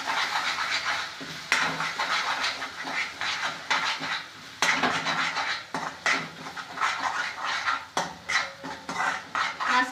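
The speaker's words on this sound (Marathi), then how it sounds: "मसाले जोपर्यंत तेल सोडत नाही त्याला तोपर्यंत आपल्याला हा मसाला भाजून घ्यायचा आहे लो फ्लेमवर" Spiced masala for a village-style egg curry roasts in oil over a low flame, a continuous broadband sizzle broken by several sharp clinks of a spoon or spatula against the pan.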